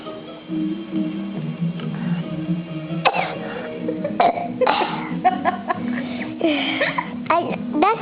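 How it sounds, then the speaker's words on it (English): A young boy lets out burps after drinking Coke, short throaty bursts scattered among coughs, throat sounds and an adult talking nearby, all close and fairly loud. "Burp."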